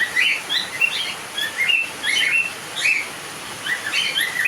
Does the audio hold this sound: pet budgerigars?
yes